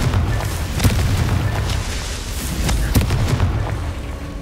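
Confringo fire spell explosions in the wizarding game Hogwarts Legacy: a dense, continuous roar of booming blasts and crackling bursts with several sharper impacts, loud and close, no talk.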